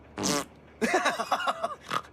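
A cartoon fart sound effect plays as a short buzzy blast, then a longer, bubbling, wobbling run of farty pops and squeaks, ending with one final brief burst, loud and close.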